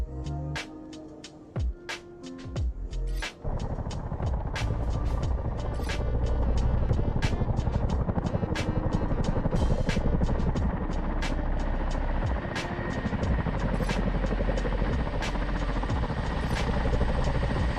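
A CH-47 Chinook in Microsoft Flight Simulator spools up from a few sputtering bursts into a steady, rhythmic rotor chop and engine drone, moderately loud, with sharp clicks scattered across the sound.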